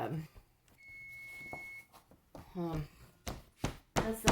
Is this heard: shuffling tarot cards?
no